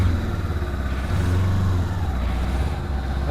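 Kawasaki Versys X300 motorcycle, its engine shared with the Ninja 300, running steadily while riding down to the shops, a loud, continuous low drone with a slight rise in pitch midway and no talking.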